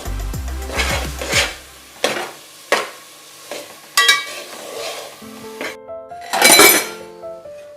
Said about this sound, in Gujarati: હવે આપણે ડુંગળી ને ટમેટા થોડી વાર ચડવા દેશું.